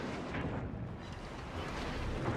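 Heavy battleship gunfire from the US battleship Iowa in World of Warships, a continuous deep rumbling boom that fills the whole stretch at moderate loudness with no speech.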